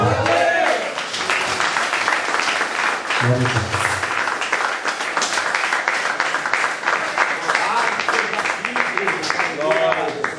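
A church congregation applauding together during a worship service, steady dense clapping throughout with voices calling out over it.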